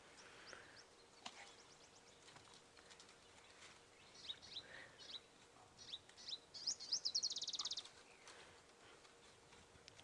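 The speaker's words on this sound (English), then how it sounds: "You hear all the little birds passing through, which is quite nice as well. Very small ones, lots of waxbills." Small birds such as waxbills call in the African bush at sunrise, with scattered thin chirps early on and a brief burst of rapid high twittering near the end, moderately close against a quiet outdoor background.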